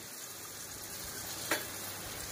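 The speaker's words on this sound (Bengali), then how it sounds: "এবার আরেকটা লুচিও ঠিক একইভাবে ভেজে নেব।" Luchi puffs in hot oil with a soft, steady sizzle and bubbling, broken by one brief sharp spit midway; the frying is faint and no one talks.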